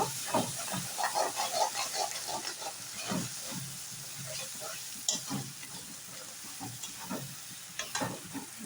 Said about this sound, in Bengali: পেঁয়াজটা মধ্যে ভালোভাবে নেড়ে এখন মশলাটা ভেজে নেব